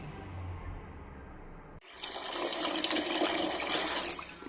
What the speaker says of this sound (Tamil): அப்போ 3 உலக்கு தண்ணி நான் இதில் சேர்த்துக்க போகிறேன்